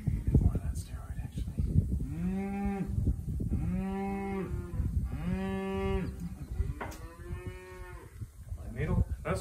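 Cattle lowing repeatedly in a veterinary handling setting, with three or four long, drawn-out moos close by, set against a busy background of barn noise.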